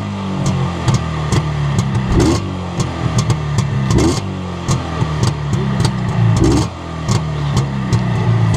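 A loud Jawa 638 motorcycle engine on a dyno stand runs steadily with a throbbing, rapid low pulse and repeated rises in pitch, as if being revved close by.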